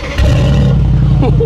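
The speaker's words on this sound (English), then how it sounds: "Let us wake it up quickly, power, ignition, and then take a listen to the exhaust just down here." A Mansory G63 Star Trooper pickup's exhaust bursts into a loud, deep, close roar right after ignition and settles into a heavy rumble for a second or so.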